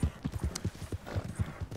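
Horse hooves clip-clop in a steady, even gallop rhythm in the Red Dead Redemption 2 video game, moderately loud and close, with no talking over them.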